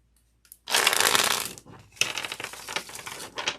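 Tarot cards are shuffled in quick riffling bursts, a loud papery flutter followed by shorter rustling passes, close and with no talk.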